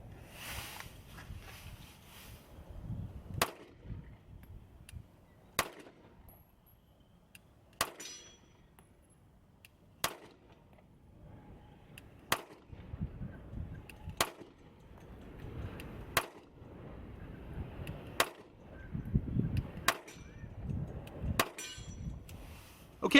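Shots from a SCCY CPX-2 pistol fired through a new replacement magazine: about ten sharp, evenly spaced reports, loud and close, with quiet handling and rustling noise between them.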